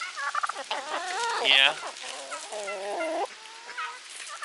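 Turkeys gobble and cluck close by in a farm pen, a run of warbling, rippling calls with one loud rising gobble in the middle, then softer clucking.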